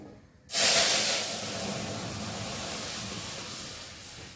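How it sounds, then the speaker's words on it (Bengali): Dal poured into a pan of hot fried spice tempering bursts into a loud, sudden sizzle that hisses steadily and slowly fades, close and without talk. "ফোড়নটা ভাজা ভাজা হয়ে গেছে আর এখন আমি ডালটা ঢেলে আর ঢাকা দিয়েই দেবো"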